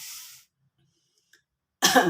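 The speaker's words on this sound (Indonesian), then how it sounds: "aduh batuk Bunda" Two short, sharp coughs, one right at the start and another at the end, with near silence between them.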